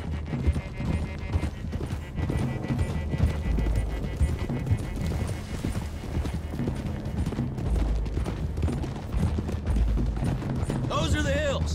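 Horses gallop in Red Dead Redemption 2, with a dense, rapid drumming of hooves under music and game effects, loud and continuous, and a few voices speaking along the way.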